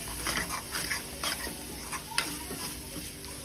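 A spoon stirs sev usal masala for a green pea sev usal in a pan, giving soft, repeated scraping strokes over a low, faint sizzle.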